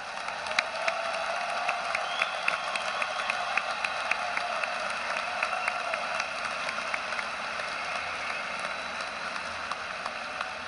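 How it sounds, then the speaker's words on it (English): At a Portland State University commencement, the audience applauds Latin honors graduates as they stand, a broad, sustained patter of many hands spread across a large hall, even in level and continuing without a break. "let's give these students a round of applause"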